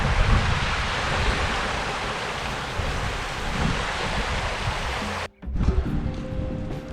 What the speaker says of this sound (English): See how fast the water's flowing.